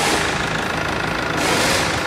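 A Chevrolet S10 pickup engine running steadily with its 4x4 engaged, heard close as a constant mid-pitched mechanical drone with a faint knocking texture and no gaps.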